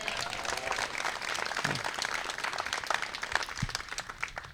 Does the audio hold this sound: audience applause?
yes